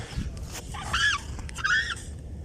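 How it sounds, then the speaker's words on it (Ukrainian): Swans and crested ducks are being caught and packed into boxes, and two honking calls ring out close by, a second apart, over a steady rustling background. "Окрім лебединої пари, Петра та Наталки відловили і чубатих качок"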